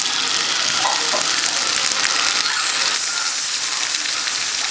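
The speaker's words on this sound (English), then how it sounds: "Sorry, washing my hands" Oily hands rinsed under a running tap while making a potato and green bean salad, a steady, close rush of water that fills the whole moment without pause.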